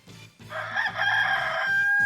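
A chicken crows in a long, loud, drawn-out call as it moves around a government office courtyard, with no talking.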